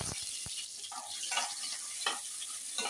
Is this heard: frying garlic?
yes